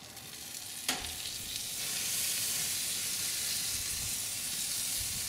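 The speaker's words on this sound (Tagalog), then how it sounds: "Itutuloy lang natin ang pag-ihaw dito sa isang side ng 3 minuto" Marinated toro tuna belly sizzles on a grill in a loud, steady hiss that swells after a sharp clack and then holds evenly, with no voices.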